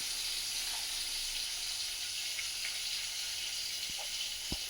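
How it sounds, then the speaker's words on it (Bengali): Hilsa fish frying in a home kitchen pan, giving a steady, even sizzle and hiss that runs throughout at moderate level, with a couple of faint clicks near the end and no talking. "এখানে একটু ইলিশ মাছ ভাজা"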